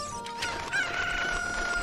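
Chicken clucking in the video game Zelda Ocarina of Time, a short bird call over steady game background sound, a single close squawk-like tone rising out of the music.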